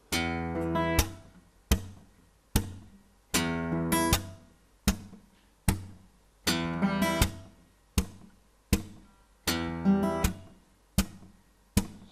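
Fingerstyle acoustic guitar mixes plucked thumb notes with sharp percussive string slaps in a steady repeating rhythm, each slap a bright crack followed by ringing chord tones, played close and clear without any talk.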